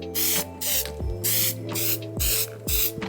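Spray can or gun laying down the third and final coat on a Subaru spoiler for a Honda Civic, heard as close, loud hissing bursts of about half a second each, repeated in a steady on-off rhythm with short pauses between passes.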